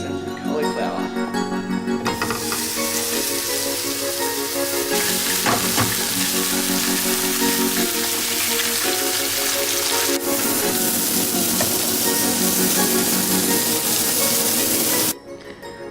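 Steak and eggs sizzle loudly in a hot pan, a continuous close hiss that swells after the first couple of seconds and cuts off abruptly near the end, with some clatter mixed in.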